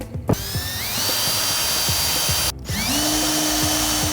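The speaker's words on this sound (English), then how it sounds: "And you're gonna drill 2 holes where you made those marks." A power drill whirs loudly in two bursts, drilling pilot holes in pallet wood, spinning up to a steady high whine, with a brief pause between them.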